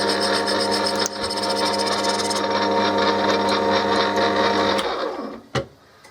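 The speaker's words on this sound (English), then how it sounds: "Plastic cuts easy, love cutting this stuff." A power saw cuts steadily through a plastic UV light housing for a koi pond filter, a continuous buzzing drone that runs several seconds, then stops with a few clattering knocks at the end.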